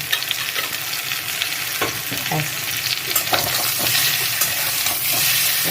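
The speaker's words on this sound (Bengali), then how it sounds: "মশলাটা জল দিয়ে একটু কষিয়ে নেবো" Spice masala with salt and ground coriander-cumin frying in a pan for a vegetarian papaya curry, a steady loud sizzle with scraping stirs throughout.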